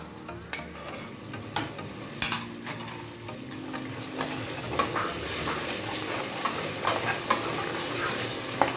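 Masala for chicken biryani fries in a pan with a continuous sizzling hiss, while a utensil stirs and scrapes at irregular moments, close up and without talk.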